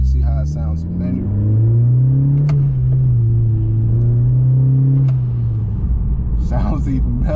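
A 2020 Honda Accord Sport with a PRL downpipe revs in manual mode, its exhaust making a deep rumbling drone that climbs, holds and falls off, heard up close from inside the car, with a few brief background sounds.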